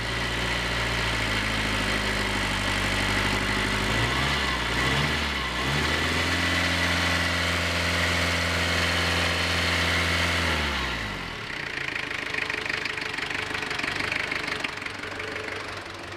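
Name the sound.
1983 Ford Ranger 2.2L Perkins diesel engine idling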